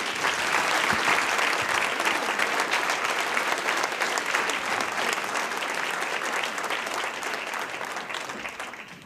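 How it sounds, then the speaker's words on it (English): A large audience claps steadily for several seconds at a Kiwanis Club awards ceremony in Indianapolis, dense and even, slowly tapering off toward the end. "Please give her a round of applause."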